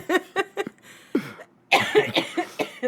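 Several sharp coughs come close together in bursts, loud and near, followed by a rougher, harsher coughing fit.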